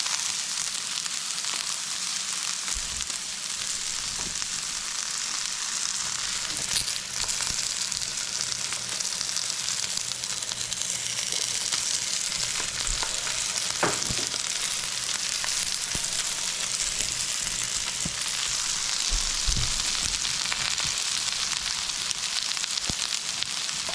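Salmon and Brussels sprouts fry steadily in a pan, a continuous close sizzle and crackle with occasional louder pops and light clinks, no talking.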